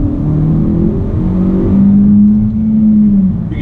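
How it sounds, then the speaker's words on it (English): A 2019 Honda Civic Si engine pulls hard toward redline, its tone climbing steadily as revs build, heard loud and close from inside the car without talk. "It pulls pretty good all the way to red line"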